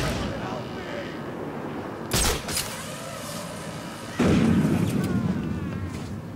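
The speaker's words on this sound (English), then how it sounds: "I've detected the distinctive sound of Deadshot's sniper rifle firing again inside Arkham City." Deadshot's sniper rifle firing in Batman: Arkham City, two sharp loud shots about two seconds apart, the second followed by a lingering rumble over a low ambient background.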